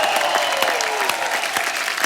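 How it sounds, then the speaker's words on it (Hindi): Loud, dense applause from a studio audience on a comedy show, cheering the performers after a tribute act, with a steady wash of claps and a faint sustained musical tone underneath. "तमाम कलाकारों के लिए जोरदार तालियां।"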